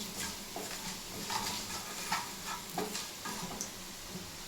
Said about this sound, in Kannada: ಲೋ ಫ್ಲೇಮಲ್ಲಿ ಫ್ರೈ ಮಾಡ್ಕೊತಿರ್ಬೇಕು.